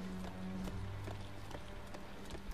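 A horse's hooves clop in a steady, quick rhythm in the video game Breath of the Wild, moderately faint over a low background of game music and ambience.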